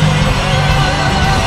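A young crowd at a Catholic church youth event cheers and shouts loudly and continuously, a dense roar of voices filling the space with no pauses.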